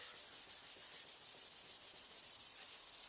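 Car paintwork on a classic car restoration being rubbed out by hand in crisscross strokes, a rhythmic, evenly paced swishing friction repeating about five times a second, close and quiet with no talking.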